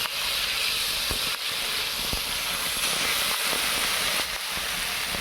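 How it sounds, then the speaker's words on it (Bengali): Chicken feet and long-cut potato pieces in curry hiss and steam steadily in a hot pan while being stirred, a continuous sizzle with a few faint scrapes, fairly close and without talk. "এখন আর একটু নেড়ে চেড়ে নিচ্ছি।"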